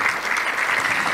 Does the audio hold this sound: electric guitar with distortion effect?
no